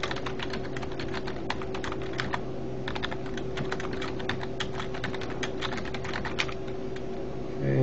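Rapid clattering keystrokes on a computer keyboard, steady and close, running for several seconds over a faint constant hum with no talking.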